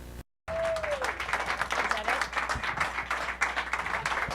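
An audience applauds for a live in-studio radio performance, a steady patter of clapping that follows a short cut, moderately close, with some cheering mixed in.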